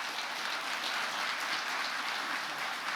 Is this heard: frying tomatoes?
no